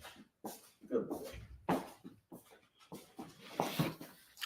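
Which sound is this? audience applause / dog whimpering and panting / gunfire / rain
dog whimpering and panting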